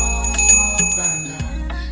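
A livestream gift bell sound effect rings out, a short bright chime with ringing tones over a steady low background hum.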